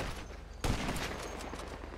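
A short burst of gunfire in the GTA Online video game, a sudden rapid volley cutting in mid-clip over low game rumble and then trailing off with rattling shots.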